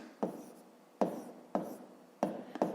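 Handwriting a math expression on paper gives a series of five short scratchy strokes, close and quiet, evenly spaced with faint rubbing between.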